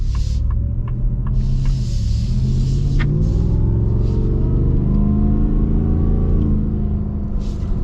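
A 2025 Ford F-150 Raptor R or Shelby F-150 off-road truck engine revs and accelerates, a loud, continuous rumbling roar that climbs steadily in pitch over several seconds, heard from inside the cab with a few faint clicks early on.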